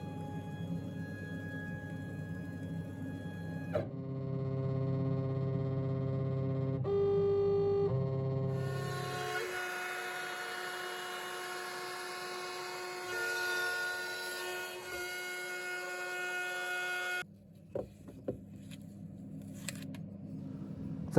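A CNC machine cutting wooden stock for a small chair's frame gives off steady whining tones that shift pitch in stages, then changes to a higher, busier buzz of cutting before settling to a quieter hum.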